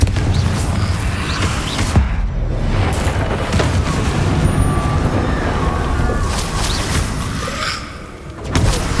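Confringo blasting spell explosions in the video game Hogwarts Legacy, loud booming bursts over a dense rumbling game soundscape, with a sharp hit near the start and a brief dip late on.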